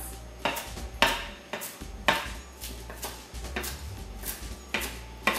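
A knife chops through folded kale leaves on a cutting board for a kale quinoa salad: a run of sharp, close, evenly spaced chops, each a crisp thud against the board, with no talking.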